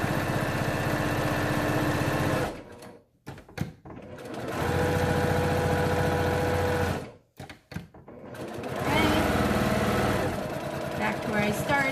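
A sewing machine runs fast and steady in long bursts with short pauses, stitching the seam of a child-sized 3D box fabric face mask, with some backstitching.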